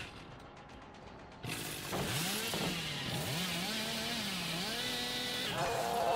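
The Hillbilly's chainsaw in the video game Dead by Daylight roars to life after a quiet start, revving loudly with pitch swinging up and down in repeated surges, staying close and continuous to the end.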